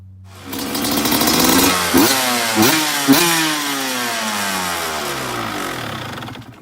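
A Suzuki RM125 two-stroke motorcycle engine starts up and runs loud and close, with a few sharp revs near the start before settling into a steady, buzzing idle.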